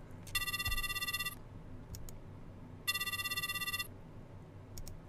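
In a horror dating-sim video game, a phone rings unanswered: two long electronic ring bursts about a second each, separated by a pause, over a quiet low background hum.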